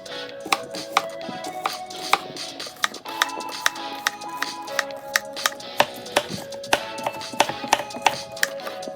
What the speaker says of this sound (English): Now thinly slice the onion and be sure to separate the pieces.